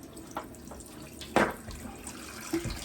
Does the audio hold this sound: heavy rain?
no